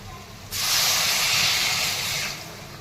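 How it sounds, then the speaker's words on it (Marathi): Water poured into a hot pan of spiced potato sabzi makes a sudden loud hiss that bursts in, holds steady for about two seconds, then tapers off. "आणि आता यामध्ये पाणी ओतून घेत आहे"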